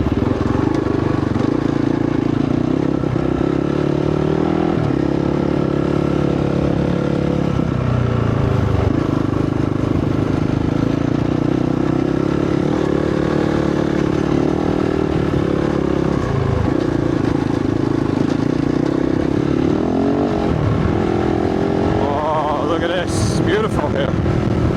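A motorcycle fitted with a 51T rear sprocket rides through rocky desert terrain, its engine droning loud and steady with shifting revs and clatter, while the rider talks over it.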